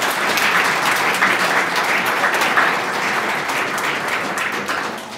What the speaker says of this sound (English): Give a round of applause to all of you.